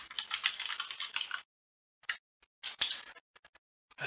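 Someone types an email address on a computer keyboard, producing quiet, close key clicks in a fast burst, then a pause, then scattered taps and a second short flurry.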